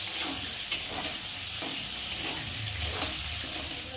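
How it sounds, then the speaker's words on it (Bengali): Potatoes and onions fry in oil with a constant close sizzle, punctuated by a few soft taps and stirs at irregular intervals. "আলু ভাজা হবে, পেঁয়াজটাও ভাজা হয়ে যাবে"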